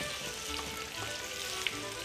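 Vegetable oil, half olive and half sunflower, sizzling loudly in a pan while liver is fried for beef stroganoff, a dense continuous crackle up close with a faint clink near the end.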